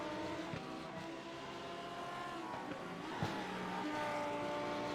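GT3 race cars in a racing video game at the Charlotte Roval, engines droning steadily with shifting pitch as they ride over curbs, a brief knock partway through, loud and continuous without talk.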